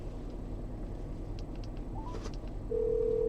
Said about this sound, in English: I'm actually going to make a quick phone call